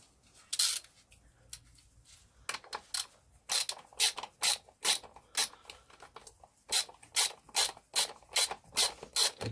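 A ratchet clicks in quick bursts of rapid strokes as it loosens gearbox bolts on a Land Rover Series gearbox, the ratcheting loud and near, with pauses between runs.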